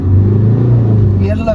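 A BMW car engine revs loudly and steadily at close range with a low rumble. Voices talk over it toward the end.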